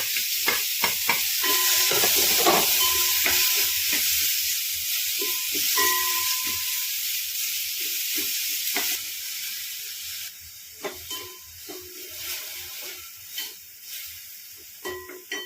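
Onions sizzle and hiss steadily in a hot pan, broken by scraping and tapping as a spoon stirs them.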